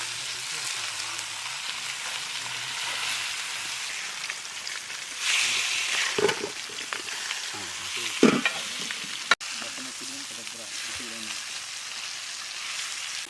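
Freshly caught freshwater pomfret frying in a pan over high heat, a loud continuous sizzle with bursts of stirring and spattering and one sharp clack, while a person speaks intermittently.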